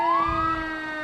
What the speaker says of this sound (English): Always love to see all the sirens and hear the sounds with the fire department